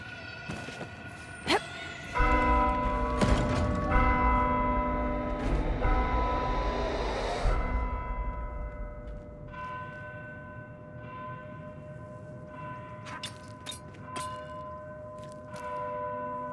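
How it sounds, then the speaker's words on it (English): Bell tolls ring out in the Warhammer video game, several struck strokes with long ringing tails over a low rumbling bed, fairly loud at first, then sparser metallic hits fading toward the end. "Right, ring the bell."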